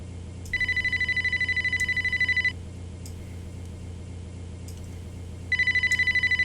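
A telephone in the game Amber: Journeys Beyond rings in two bursts of rapid trilling bell tones, each about two seconds long with a pause between, loud and clear over a quiet low ambient hum.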